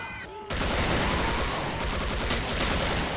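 Sustained rapid automatic gunfire from a gun in Killing Floor, loud and close, starting abruptly after a short pause and continuing as a dense fusillade, with faint voices in the background.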